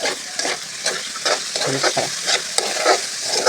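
Bitter gourd frying with green chilies in a pan, a loud close sizzle under repeated scraping strokes of a utensil stirring the pieces.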